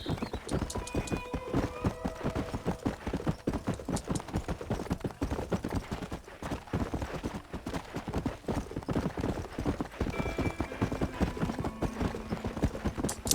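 Steady rhythmic hoofbeats of a horse trotting across open ground in the Western video game Red Dead Redemption, close and continuous for many seconds, with an occasional snort or whinny and light background music.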